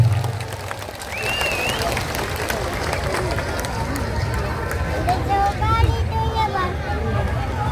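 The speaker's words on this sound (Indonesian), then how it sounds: "Tepuk tangan buat semua yang di sini." Crowd at an outdoor political rally for Anies Baswedan in Langkat claps and cheers steadily throughout, a dense wash of applause with voices calling out and background hubbub.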